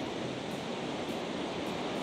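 The monsoon-season sea off the Kundapura coast at night gives a continuous, dense roar of surf with no breaks, heard alone.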